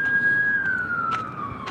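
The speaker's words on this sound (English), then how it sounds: "you hear the ambulances and stuff here" An ambulance siren passes near a hospital, a steady wailing tone that slowly falls in pitch, heard from a moderate distance over outdoor street noise.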